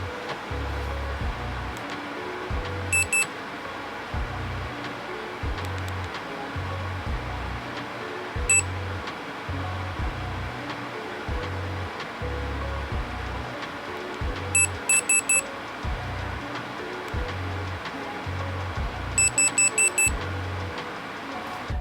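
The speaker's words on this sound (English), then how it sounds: "The beeping is pretty loud" Short, high electronic beeps from an Insta360 Go 3S action camera sound in sparse clusters, sometimes singly and sometimes in quick runs of three or four, over a steady rhythmic mechanical background.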